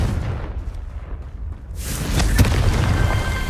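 A Confringo spell in Hogwarts Legacy sets off a blast with a sudden broadband burst and crackle after a low rumbling lead-in, followed by a sustained loud roar with a sharp crack in the middle.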